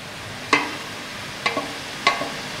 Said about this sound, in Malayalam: നമ്മൾ ഇളക്കിക്കൊണ്ടിരിക്കുന്നു